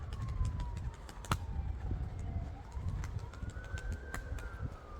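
Pigeons coo softly against a low rumbling background while a siren wails faintly in the distance.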